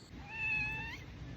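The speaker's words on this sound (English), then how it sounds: "Cat's hungry" A hungry cat gives a single drawn-out meow, close and fairly clear over a low background hum.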